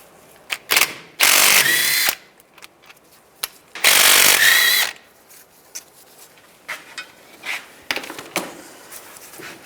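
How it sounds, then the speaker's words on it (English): A socket ratchet loosens the two 13mm front brake caliper bolts on a 2005-15 Nissan Xterra, heard as two loud, sustained bursts of close mechanical rattling with scattered lighter clicks and taps between them. "use a 13mm socket, take these 2 bolts out"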